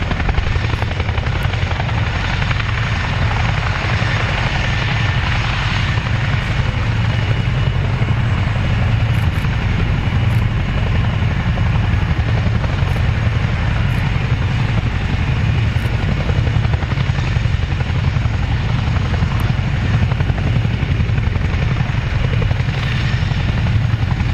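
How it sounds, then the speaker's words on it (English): A Chinook helicopter at an RAF Cosford airshow climbs into a hover, its twin rotors producing a loud, constant, deep thudding roar that stays unchanged and close throughout. "The aircraft gently corkscrew climbs into the hover."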